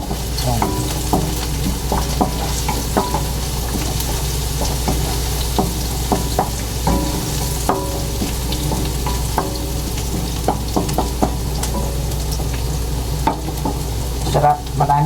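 Garlic frying in a pan for a Filipino pork dish sizzles loudly and steadily, broken by repeated scraping and clinking of a spatula stirring close by.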